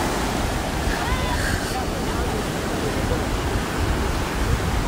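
Waves wash onto a sandy beach at Patara, a steady broad surf roar mixed with wind buffeting the microphone, continuous and fairly loud with no distinct breaks.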